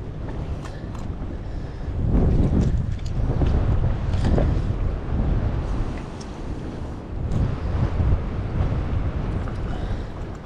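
Strong wind buffets the microphone on a small boat out on open water while crappie fishing, a steady rushing roar with gusty surges throughout.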